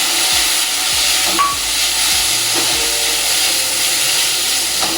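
Frozen peas tipped straight into a hot frying pan with carrots, giving a steady broadband sizzle and hiss with a few scraping stirs of a spatula, close and fairly loud, no voices.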